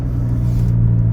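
Barra-powered Holden fitted with a ZF 6-speed transmission cruising along, a steady low engine rumble and drone that holds loud and close throughout with no talking.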